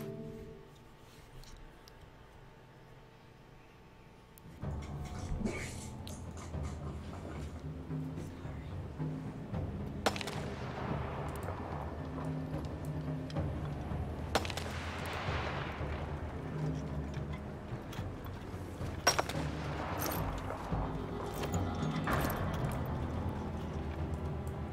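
Gunfire rings out in the war survival game This War of Mine: several sharp, separate shots a few seconds apart crack over a murky ambient background, with faint talk underneath.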